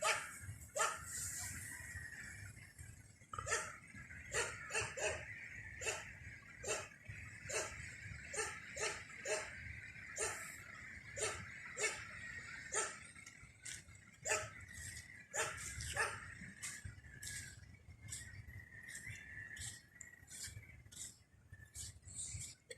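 Persistent barking from a dog near a cabinet repair job, a long run of quick, evenly spaced barks that keeps going almost without pause, loud and close with a low rumble underneath.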